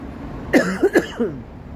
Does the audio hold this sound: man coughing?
yes